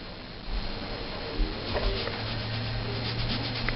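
Eyeshadow swatch rubbed onto the skin of an arm, a soft continuous scrubbing close to the microphone with faint low hum behind it.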